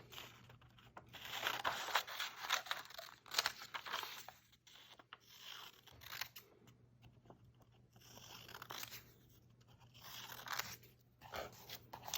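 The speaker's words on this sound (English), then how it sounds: "So using your pair of scissors, go ahead and cut each of these boxes out" Quiet, crisp snipping and crunching as scissors cut through paper in repeated short bursts, with brief pauses between cuts.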